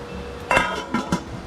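Metal clanks as a lid settles on a pot of fish and tomatoes: one solid clatter, then two quick lighter clinks, close and fairly loud.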